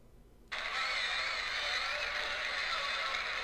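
Racing car engine from the Real Racing game on an iPhone cuts in abruptly after a short quiet start, then holds a loud, steady, bright whine as the car drives.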